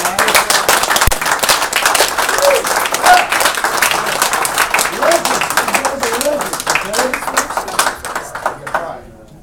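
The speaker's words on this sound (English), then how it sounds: "Let's give them all a big round of applause." Enthusiastic applause and clapping from a crowd at a foosball Hall of Fame induction, dense and sustained for several seconds before tapering off, with voices mixed in.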